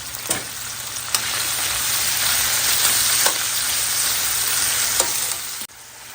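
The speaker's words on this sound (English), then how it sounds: "All right, so let all this cook together. Just a few minutes until the onion is nice and soft." Onion and Polish sausage fry together in a pan, a loud, steady close-up sizzle with a few brief clicks of stirring, continuing evenly before cutting off near the end.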